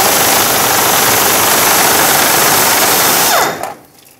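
Impact or power tool spinning out a 13mm fuel tank strap bolt on a 1999-2007 Ford F-350 7.3L Powerstroke, a loud continuous buzzing whir that stops abruptly near the end.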